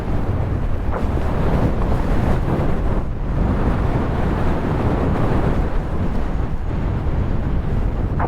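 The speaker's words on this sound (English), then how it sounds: "Windy when you're at cross winds" Strong coastal crosswind roars steadily across the microphone while cycling along the seafront near Carnoustie on the Scottish coast, a loud continuous rushing buffet with no speech.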